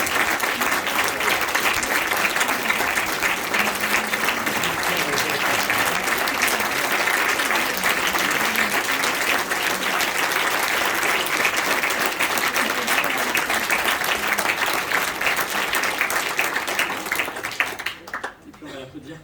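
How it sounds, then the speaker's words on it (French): Sustained, loud audience applause at a signed-poetry performance, dense clapping filling the room steadily for most of the length before tapering off at the end, with no one speaking over it. "moi j'ai très envie qu'on l'applaudisse encore"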